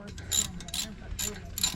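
A ratchet tightens the wheel nuts on a limo during brake work, giving four short bursts of rapid clicking spaced evenly, close and fairly clear against a low background hum.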